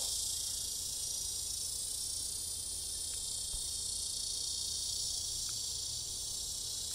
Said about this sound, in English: Look at the cicada. He's calling. A stillness mating call.